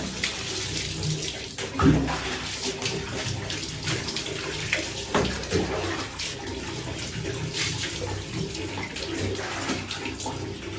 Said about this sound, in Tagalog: Ito shower.